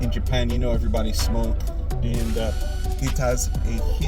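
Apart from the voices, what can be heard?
None of the usual background noises is heard.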